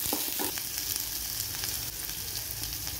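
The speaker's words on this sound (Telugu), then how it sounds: "ఒక గిన్నెలో ఆయిల్ వేసుకొని ఫ్రై చేసుకోవాలి." Onions sizzle steadily in hot oil in a pot while a capsicum chicken fry is being cooked. The crackle is close, even and continuous, with no talking over it.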